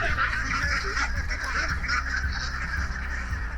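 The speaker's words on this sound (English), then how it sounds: "So this first hut is our new ducks." Young ducks about ten or eleven weeks old crowd inside a hut on an Iowa duck-egg farm, a dense, continuous chorus of honking and quacking close by throughout.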